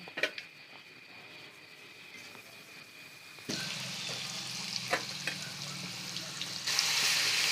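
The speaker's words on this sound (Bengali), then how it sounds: "রসুনটা ফ্রাই করে নিচ্ছে সেই ডুবো তেলে" Garlic paste drops into deep oil and fries. A faint clatter gives way to a sudden loud burst of sizzling that keeps bubbling and rises again near the end, with no speech.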